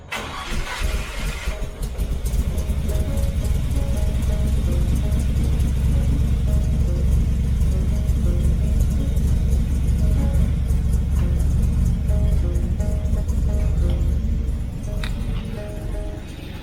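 A 1965 Chevy 283 V8 idles after its idle screw is turned up, a loud, steady, close-up rumbling run that holds for the whole stretch, with a brief mechanical rattle at the start and no talking.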